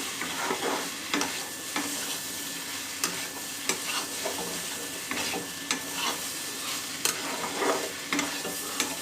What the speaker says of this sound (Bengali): তবে হ্যাঁ পেঁপেটাকে ভালো করে একটু কষাবে